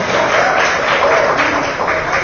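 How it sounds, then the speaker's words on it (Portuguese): Church congregation applauding in worship, a steady dense wash of clapping filling the room continuously without pause. "Vamos dar um aplauso ao Senhor Jesus pela vida do Tiago aí."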